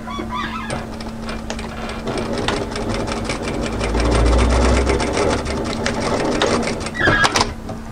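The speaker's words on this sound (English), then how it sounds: "let's move to our overlocker and overlock those three edges" An overlocker serges the edges of woven fabric with a fast, rapid mechanical chatter and a low motor hum, close and loud, swelling in the middle and running steadily throughout.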